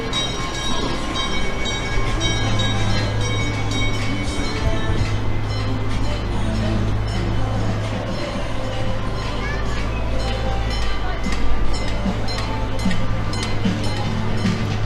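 A park railroad train at Castle Park in Riverside rumbles steadily along with a low engine drone and rattling wheels, while people talk over the continuous noise.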